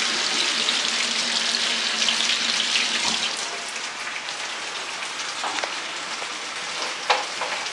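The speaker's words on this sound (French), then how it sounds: "On va se laver les mains." Tap water runs steadily into a sink while hands are washed, a continuous close splashing hiss that eases slightly midway, with small drips and rubbing sounds.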